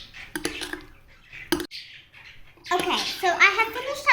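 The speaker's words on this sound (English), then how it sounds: "I have finished up stirring my slime" A spoon clinks and scrapes against a bowl while stiff slime made from egg and washing liquid is stirred, in sharp intermittent taps followed by a voice speaking.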